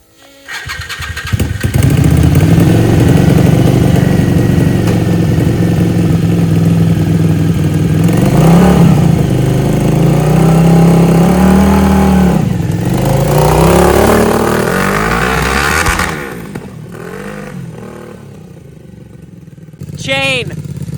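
A 1000cc monster kart engine fires up and revs hard, a loud buzzing motorcycle-like roar holding high and rising before easing off to a rougher idle and fading as it pulls away.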